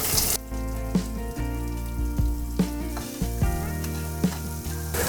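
Sliced onion and potatoes sizzling in a hot pan for Indori poha, a close, steady frying hiss broken by several sharp clanks and scrapes of a spoon stirring at irregular intervals.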